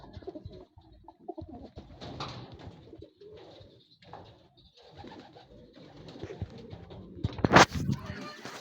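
Racing pigeons coo repeatedly at a training release in Tiaong, Quezon, their soft, uneven calls carrying over background bustle, with a sharper burst of noise near the end.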